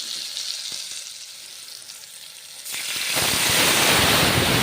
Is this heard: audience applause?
no